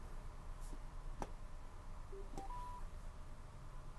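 A Sena 60S motorcycle headset powering on: a few faint clicks, then a short rising sequence of three clean electronic beeps, quiet over low background hiss, with no talk.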